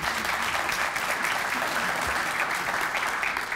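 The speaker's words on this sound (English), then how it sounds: "Please give him a round of applause as well." An audience at an indoor awareness-event presentation gives sustained, dense applause. The clapping stays loud and even throughout, with no speech over it.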